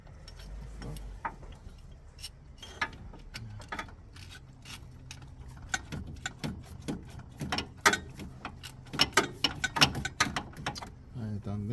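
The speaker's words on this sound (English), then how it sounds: "I need to replace this ratchet though" Worn ratchet wrench clicking while working on the alternator of a Nissan Qashqai: rapid, irregular runs of close metallic ticks and clacks, continuing steadily through the stretch with occasional tool knocks.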